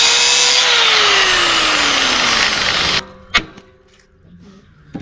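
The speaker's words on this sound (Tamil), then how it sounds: "இதையும் கட்டிங் மிஷினை போட்டு நம்ம கட் பண்ணி எடுத்துக்கலாம்" An angle grinder-style cutting machine slices through a seized bicycle pedal for an ATV build, a loud sustained whine with falling pitch for three seconds, then cutting stops, leaving a sharp clank and quiet handling noises.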